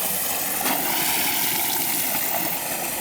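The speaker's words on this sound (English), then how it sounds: "It's a waterfall. Water is falling." Texas waterfall on a creek near the Guadalupe River pouring into a swimming pool, a steady broad rushing wash, close and constant, with no talk.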